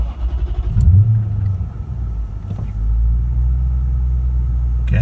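A Lexus GS430 V8 cranks and catches, bursting into a loud close rev before dropping back to a steady low rumbling idle.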